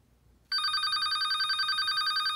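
A telephone bell starts ringing suddenly and keeps up a steady, loud, rapidly pulsing trill, close by, with no talk over it.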